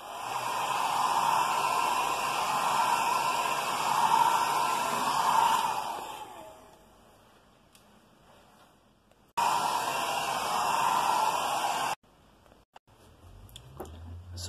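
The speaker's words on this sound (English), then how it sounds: "you can accelerate the process with a hairdryer" A hairdryer blows steadily and loudly over wet paper in a clingfilm and gum arabic seascape painting, switching off around six seconds, then running again for a short burst before stopping, followed by faint handling sounds.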